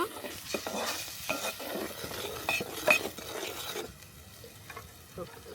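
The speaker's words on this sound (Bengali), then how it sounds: "মরিচের গুঁড়ো পরিমাণ মতো এখন আমি মশলাটা কষিয়ে নিব" Spice paste with turmeric and chili powder frying and stirred in a pan, a close sizzle under steady scraping strokes of a spoon, a voice speaking briefly over the cooking.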